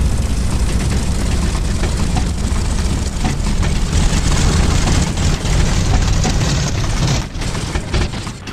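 An A2A flight-simulator aircraft engine with its idle set too low runs as a steady, loud, low-pitched drone, then sags and thins near the end as the throttle is pulled fully back.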